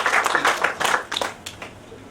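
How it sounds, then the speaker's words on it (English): An audience at a health talk gives a short round of applause to welcome the speaker, a close cluster of claps that thins out and fades within a couple of seconds. "we can welcome sir with a round of applause"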